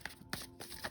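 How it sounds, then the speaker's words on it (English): Soft riffling and flicking of a deck of playing cards being shuffled nearby, quiet and papery, with a few sharper snaps. "So if you hear the card shuffling in the background"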